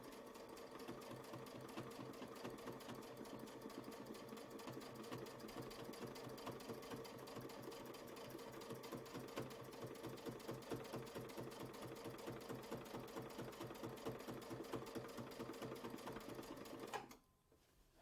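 A sewing machine stitches quilting circles in a fast, even, continuous run of needle strokes for most of the stretch, then stops abruptly near the end.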